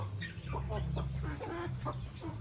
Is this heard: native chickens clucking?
yes